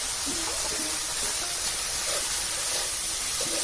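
Prawns hit hot cooked spice paste with turmeric and salt in a pan, giving a steady, broad sizzle and hiss that continues evenly without breaks.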